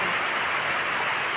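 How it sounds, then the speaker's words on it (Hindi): Heavy rain pours down in Korangi, Karachi, a steady dense hiss of water with no break, close and loud throughout. "देखें कैसी बारिश हो रही है के एरिया में।"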